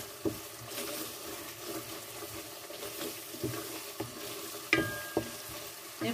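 Spice paste with ground spices sizzles and fries in oil for a chicken curry, a soft steady crackle broken by occasional sharp clinks and scrapes of a spoon against the pan.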